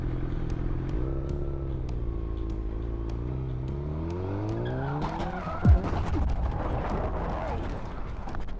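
A car runs a red light and slams into a motorcycle and another car at an intersection: steady traffic engine drone, then a sudden loud impact crunch with a brief tire screech, followed by scraping, clattering debris and lingering street noise.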